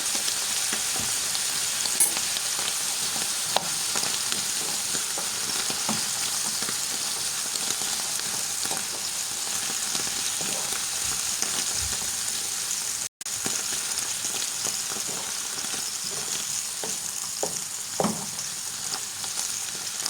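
Butter sizzles in a pan with foraged chicken-foot mushrooms, a steady close hiss and crackle running unbroken for about twenty seconds, with an occasional soft clink and one brief dropout midway.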